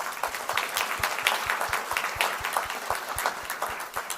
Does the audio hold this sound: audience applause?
yes